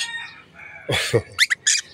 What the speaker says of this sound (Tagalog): Ito yung ibon